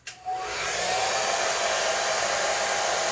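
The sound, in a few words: blow dryer drying hair extension glue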